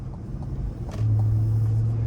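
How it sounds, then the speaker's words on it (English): A 2025 Cadillac Escalade Premium Luxury SUV on 24-inch wheels cruises smoothly down the road, giving a steady low cabin rumble that thickens about halfway through, with no talk. "Very smooth, just driving down the road here."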